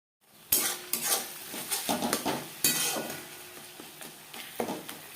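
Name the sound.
mashing spices and tomato in a pan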